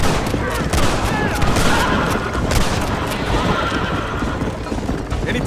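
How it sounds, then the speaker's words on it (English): Rapid volleys of gunfire crackle in a Red Dead Redemption shootout, mixed with horse whinnies and clip-clopping hooves, loud and busy throughout, with faint voices underneath. "You're shooting right at me."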